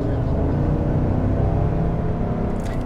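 A 2021 Cadillac Escalade V8 with a ten-speed transmission rumbles steadily while downshifting, a loud, continuous low engine drone heard from inside the cabin with no talk over it.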